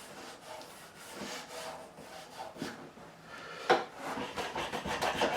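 A hand scraper works along the wooden neck of a Warwick Corvette bass in repeated rasping strokes, close and rhythmic, with no voices.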